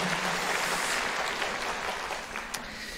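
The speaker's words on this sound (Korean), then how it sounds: "우리 감사의 뜻을 담아 한 번 더 박수 드리겠습니다." A church congregation in Korea applauds during a Sunday worship service, a broad, moderately loud wash of clapping that thins out and fades near the end.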